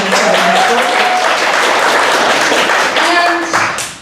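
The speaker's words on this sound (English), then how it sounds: "one more round of applause for Ben for helping us tell" An audience at an improv comedy show applauds loudly and steadily, dense clapping that holds for several seconds before tapering off at the end.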